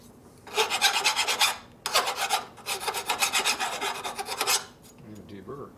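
A file rasps back and forth across a brake shoe during repair work on a 1965 Harley-Davidson panhead motorcycle, deburring the part in several loud, close bursts of rhythmic scraping strokes with short pauses between them.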